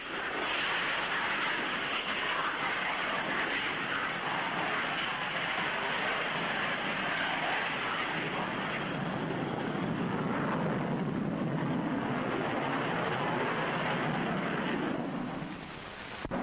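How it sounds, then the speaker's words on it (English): A Hawker Hunter jet lands at the Farnborough air display using reverse thrust, producing a steady, broad, loud roar that holds for many seconds before easing briefly near the end. "The Hunter demonstrated one method, reverse thrust, a method likely to prove invaluable with civil aircraft too"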